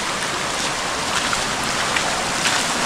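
A mountain stream flows close by on a jungle trail near a waterfall in Thanchi, Bandarban, a loud steady rushing wash of water with no voices over it.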